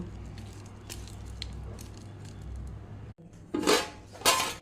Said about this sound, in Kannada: ಈ ಕಾಯಿ ತುರಿಗೆ ಈ ಬೆಳ್ಳುಳ್ಳಿಯನ್ನು ಹಾಕಿ ಚೆನ್ನಾಗಿ ಮಿಕ್ಸ್ ಮಾಡಿಕೊಳ್ಬೇಕು